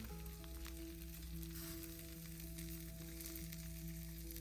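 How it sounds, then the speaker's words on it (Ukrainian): Food sizzles and crackles steadily in a hot pan, a quiet continuous frying sound with faint background hum. "Смажиться наша вечеря"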